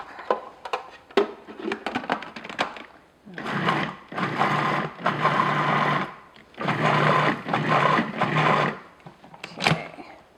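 Food processor blending shortbread tart dough in two long loud whirring bursts, preceded by short clattering pulses and a brief stop between runs, with no talk over the motor.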